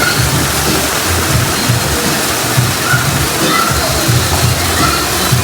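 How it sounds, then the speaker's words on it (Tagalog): Water sloshing and splashing at a resort pool as a person swims, steady continuous splashing with rhythmic pulses, near and fairly loud, with people talking faintly underneath. "pakitingnan natin yung langoy ni Kathleen."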